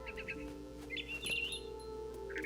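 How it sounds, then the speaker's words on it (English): A barn swallow chirps in What Remains of Edith Finch, several short high tweets scattered over a soft steady ambient bed, faint and alone. "Then I heard chirping outside my window."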